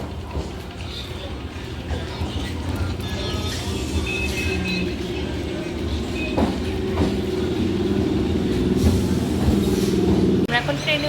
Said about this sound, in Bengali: ট্রেন আগেই ঢুকে গেছে